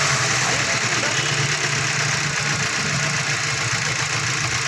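A Mazda 3 engine idles with a random cylinder misfire, giving a loud, continuous rough rumble with uneven knocking vibration, heard close up.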